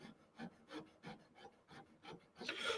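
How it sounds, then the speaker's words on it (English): A hand saw cuts shallow scribe lines into a dagger handle with about eight quiet, even back-and-forth strokes of woody rasping, ending in a slightly busier flurry. "I'm just going to cut to the depth or the thickness of the actual saw blade"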